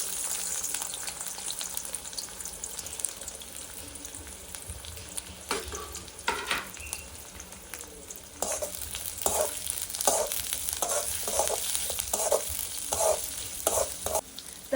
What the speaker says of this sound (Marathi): आता मी दोन चमचे तेल घातलेलं आहे तर आपण याच्यामध्ये एक मोठा चिरलेला कांदा घालून घेऊयात